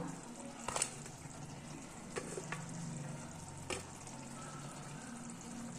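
Banana flower curry with chhana fritters sits in a pan of water, giving a steady, low sizzle and bubbling close by, with a few brief clinks and scrapes of stirring.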